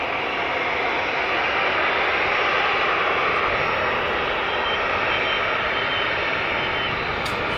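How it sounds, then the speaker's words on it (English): A British Airways airliner approaching Newcastle Airport, a steady broad engine roar holding at a fairly close, even level throughout with no voices. "here comes the British Airways."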